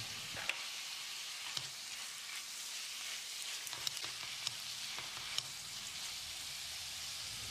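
Chopped tomatoes and turmeric stir-fried in a pan for cabbage upma give a continuous soft sizzle, with light clicks and taps from a spoon stirring through the mix.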